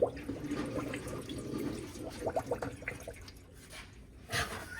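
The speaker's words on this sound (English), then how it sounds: "As you add coolant," Coolant pours and gurgles into the radiator of a 1962 Dodge D200 pickup, an uneven watery trickle with sloshing bursts at close range and no talk.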